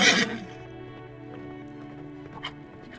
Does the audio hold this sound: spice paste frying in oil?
no